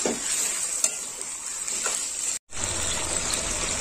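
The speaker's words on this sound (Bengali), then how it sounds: "আর একটু কষে নেবো, আঁচটা জোরে দিয়ে দিই" Chicken sautéing in a pan over high heat for a Bengali tomato chicken dish, a steady close sizzle with stirring scrapes running throughout and one brief break before the frying resumes.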